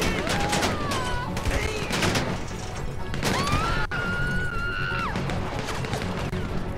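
Rapid, continuous gunfire and impacts fill the scene in Grand Theft Auto V, with whistling tones sliding over the constant loud clatter.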